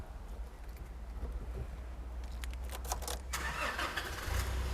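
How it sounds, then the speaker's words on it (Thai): A 2021 Nissan Navara Cab 2.5 SL pickup with a manual gearbox is started: a short burst of cranking catches at once, then the engine settles into a low, steady idle rumble, heard at moderate distance with no talking. "ก่อนไปดูห้องเครื่องสตาร์ทให้ฟังนิดนึงนะครับ"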